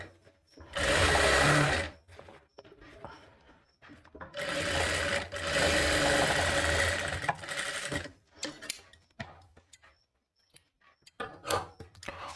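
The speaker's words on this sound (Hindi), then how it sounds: "और इस पर हम डबल सिलाई लगा देते हैं।" A sewing machine runs a double line of stitching on a katori blouse, loud steady whirring bursts of about a second and then nearly four seconds, separated by short pauses and followed by scattered light clicks and handling noises.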